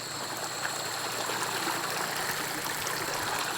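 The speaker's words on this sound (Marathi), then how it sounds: "चला मी तुम्हाला दाखवतो आमच्या गावातील वड नदी दाखवतो" A village river flows in a continuous, even rush of running water, close and steady throughout.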